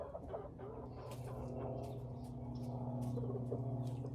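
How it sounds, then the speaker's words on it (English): A hen clucks in the nesting box of a backyard chicken coop: soft, repeated close-up clucks and murmurs run throughout over low coop noise. "there's a chicken in there"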